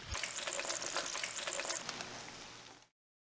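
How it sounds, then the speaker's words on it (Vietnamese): Frozen potatoes deep frying in hot oil, a steady dense sizzle with fine crackling bubbles, fairly quiet and uninterrupted, cutting off abruptly near the end. "Mình chiên đến khi khoai tây vàng giòn như thế này là được."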